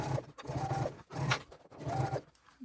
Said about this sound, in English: I'm just sewing this opening closed, starting beyond where your stitches ended and back stitching well